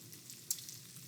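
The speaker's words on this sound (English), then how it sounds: "So as you see, the salmon patties now are frying." Salmon patties fry in canola oil in a pan with a soft, steady sizzle and one brief sharp pop midway, fairly quiet throughout.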